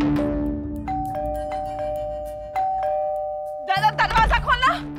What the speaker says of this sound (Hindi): दरवाजे की घंटी है अभी।